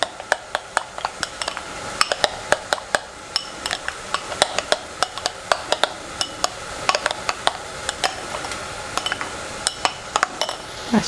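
A spoon scrapes and clinks steadily against a metal pot while thick spice paste is stirred for cashew nut curry, giving repeated sharp taps over a soft background hiss, with no talking.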